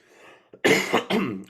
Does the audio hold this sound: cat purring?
no